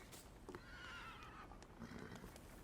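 A horse whinnies briefly amid the soft clatter of hooves and carriage noise, faint and low in the mix, in the occult detective game The Thaumaturge.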